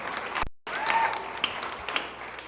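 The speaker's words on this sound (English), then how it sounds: "Round of applause." Steady applause from an awards-ceremony audience fills the room, a dense even clatter of many hands clapping with a brief cut near the start.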